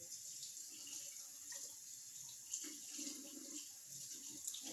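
Tap water runs steadily into a sink while food is rinsed, a soft continuous hiss with no talking.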